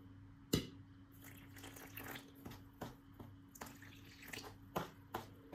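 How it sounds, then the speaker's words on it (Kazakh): Warm water pours into a flour mixture with salt and sugar for baursak dough, giving faint, quiet trickles and a few small splashes and drips close by, without talk. "Енді жылы су құйып, жақсылап араластырып, қамырымызды илейтін боламыз"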